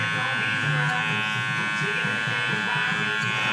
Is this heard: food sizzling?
no